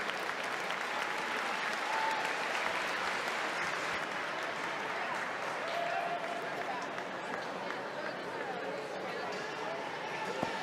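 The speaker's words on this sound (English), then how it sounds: "how about a big round of applause for all of our distance swimmers?" Sustained applause and crowd noise filling a swimming venue at a 2019 TYR meet for distance swimmers after the men's 1500m freestyle, dense steady clapping throughout with an announcer's voice over it.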